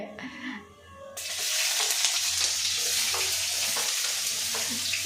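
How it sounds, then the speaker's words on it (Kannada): Onions start frying in hot oil with a sudden loud sizzle that settles into a steady close crackle, stirred now and then, after a brief quieter moment at the start. "ತಗೊಂಡು ಎಣ್ಣೆನ ಈಗ ಕರ್ಕೋಬೇಕು. ಈರುಳ್ಳಿ ಕರ್ಕೋತಾಳೆ."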